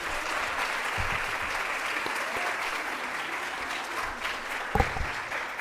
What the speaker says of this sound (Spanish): Démosle un fuerte aplauso a Adalberto Madero.